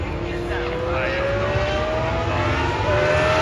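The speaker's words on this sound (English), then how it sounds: "I think the historic F1 cars are on the track at the moment." Historic Formula 1 cars whine in the distance on the Silverstone circuit, a rising and falling drone passing by amid background crowd noise and chatter.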